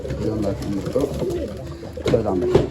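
Pigeons coo in a loft cage, with low rolling coos repeating close up while someone talks over them.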